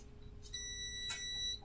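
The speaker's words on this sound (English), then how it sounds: "Thought it would stop beeping right when I hit the button." A timer alarm beeps steadily and electronically at close range in a home kitchen during a honey roast cook, the tone sustained with a brief louder burst partway through.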